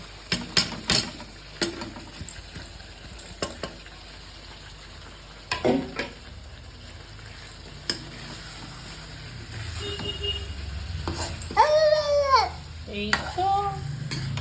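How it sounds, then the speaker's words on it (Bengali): Shankar fish sautéing in a pan of spicy masala, with soft sizzling under repeated stirring and scraping clatter, a few sharp utensil knocks, and a brief spoken remark. "ভালোভাবে কষিয়ে নিচ্ছি, এবার একটুখানি জল দিয়ে কষিয়ে নেব"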